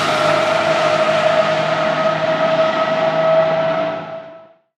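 A racing car's engine in Forza Horizon 5, a loud steady high-revving drone with strong tonal whine held for about four seconds before cutting off abruptly.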